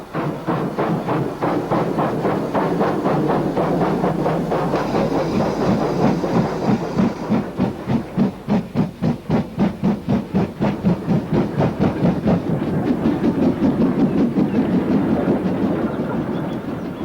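A steam goods train in West Wales in 1958 rumbles past nearby, its wheels clicking in a steady rhythm over the rails with a hissing undertone, fading slightly toward the end.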